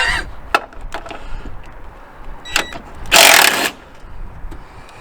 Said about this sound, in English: I did drop one nut down, but I think it went to the floor